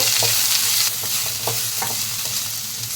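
Onion and bitter gourd stirred together in a hot pan for bitter gourd theeyal, giving a loud, continuous sizzle with rhythmic scraping strokes close by.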